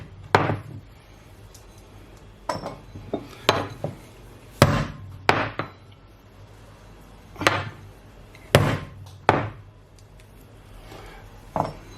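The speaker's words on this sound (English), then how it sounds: "Okay, we cracked the nuts" Unripe walnuts are cracked by hand with sharp, woody knocks and cracks, about a dozen irregularly spaced hits. The impacts are close and isolated, with quiet between them.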